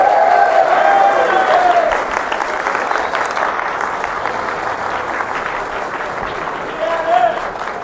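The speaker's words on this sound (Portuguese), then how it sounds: "uma salva de palmas para as mulheres." Crowd applause for the women at a public event in Santos, Brazil, loud and dense at first, easing slightly and continuing steadily, with a voice briefly audible over the clapping.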